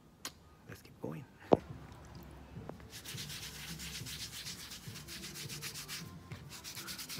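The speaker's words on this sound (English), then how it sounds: "So what I do, I thin the topi down to nothing." A thin Topy rubber sole protector being sanded down for Hermes sandals at a shoe repair bench, a few light taps first, then a continuous rapid rasping scrape that runs steadily to the end.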